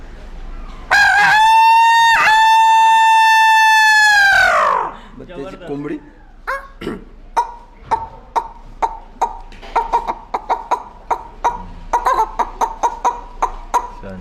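A human voice imitates a rooster's crow in one loud, drawn-out call, followed by a rapid string of short clucking sounds.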